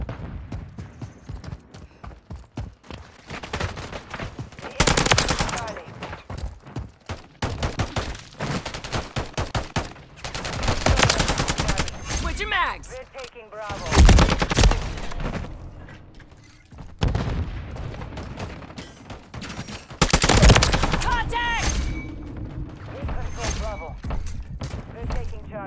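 Rapid bursts of gunfire in a Call of Duty Modern Warfare 3 match ring out repeatedly, loud and close, with several sharp volleys standing out. Voices talk throughout.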